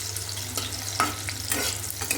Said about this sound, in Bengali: আর এখন বসিয়ে দিয়েছি কাঁকরোল ভাজা